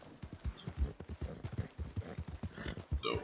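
Horse hooves clip-clopping in the video game Red Dead Online, a steady, fairly quick run of soft thuds at a moderate distance with a brief higher rustle at the end, no talk.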